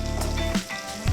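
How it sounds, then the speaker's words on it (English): Chopped vegetables scooped off a knife into sizzling butter in a pan give a close, bright crackling sizzle with a brief scrape and clatter as they land. "I'm gonna use my knife as a scoop to add right into this sizzling butter."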